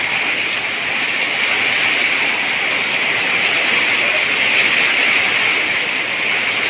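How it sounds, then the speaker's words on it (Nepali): Heavy rain falls steadily and close, a dense even hiss pouring onto a farmyard with pig sheds and parked bicycles, with no voices over it. "पानी कस्तो परेको छ भन्ने कुरो चाहिँ"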